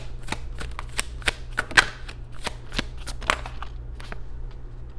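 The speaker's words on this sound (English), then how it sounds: "I'm just going to go ahead and pull a couple advice cards for you" Tarot cards shuffled by hand, a quick run of crisp riffling snaps and flutters, close and fairly soft, with no talk.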